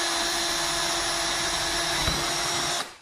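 A power drill with a 6.5 mm bit boring a hole for a fishroom plumbing build, a steady high-pitched whine running continuously for nearly three seconds before cutting off abruptly.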